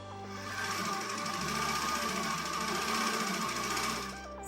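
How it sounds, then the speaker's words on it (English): A serger stitches fabric for a twist headband, running in a continuous fast mechanical whir at steady speed, close and alone for several seconds before winding down. "I will sew here and here using a serger"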